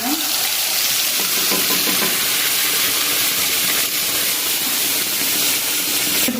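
Water hits a hot pan of blended onion, ginger, garlic, green chilli and tomato paste, setting off a loud, steady, close sizzle and hiss that carries on without a break.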